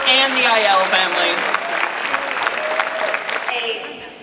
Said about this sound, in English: Please let's give another round of applause for Peace Learning Circle's Pastor Hargrove, the Golden Girls, and the Aiello family